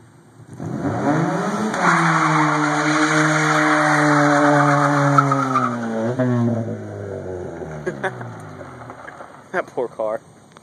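A 1991 Honda Civic hatchback does a burnout, its engine revving hard and tires skidding in a long, loud, rising and falling squeal before fading, with people talking briefly near the end.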